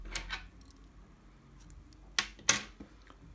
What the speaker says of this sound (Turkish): İpi kesiyorum.